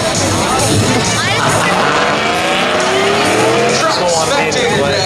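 Pickup trucks drag race at Beech Ridge spectator drags, with loud, close engines roaring continuously and one bouncing off the rev limiter, under tire squeal, crowd noise and an announcer's voice.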